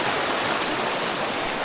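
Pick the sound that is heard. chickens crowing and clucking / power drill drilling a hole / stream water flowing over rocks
stream water flowing over rocks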